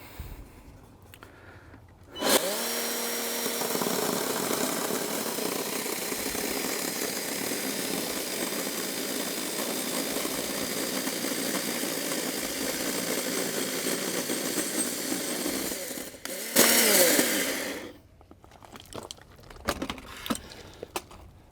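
A Kobalt 40-volt cordless 12-inch chainsaw cuts red oak with a loud, steady electric whine. The whine starts abruptly, holds for about fourteen seconds, then cuts off, leaving faint handling clatter.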